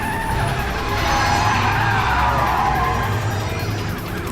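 Loud, continuous screech of tires from a fancy sports car being chased by police in Metal Gear Rising: Revengeance, a sustained skidding roar with engine noise underneath and no talking.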